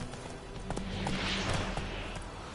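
Roach, the horse in The Witcher 3, moves along with a faint clip-clop of hooves under a steady noisy game-ambience bed, distant and low in the mix.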